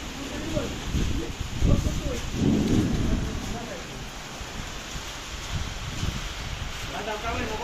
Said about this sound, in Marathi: पाऊस खूप जोराचा उडलेला आहे, तर तुम्हाला व्हिडिओमध्ये दाखवतो